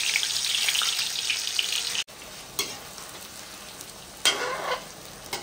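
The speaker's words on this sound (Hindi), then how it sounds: "अब देखिए, तेल हमने गरम कर लिया है, अब हम कटहल को फ्राई करेंगे।" Boiled jackfruit pieces fry in hot oil, giving a bright close sizzle that drops out briefly, then returns with short bursts as pieces are added or stirred; no voices.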